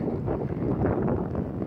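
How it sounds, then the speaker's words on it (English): Steady breeze blowing outdoors at Yosemite Lakes, a continuous broadband rush of wind buffeting the microphone, fairly loud and unbroken throughout with no talking. "It's nice and breezy."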